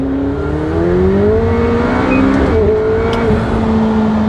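A McLaren 720S accelerates hard in second gear from about 4,000 RPM toward redline, its engine note rising steadily and loud from inside the car, with a brief shift-like dip near the middle. No voices.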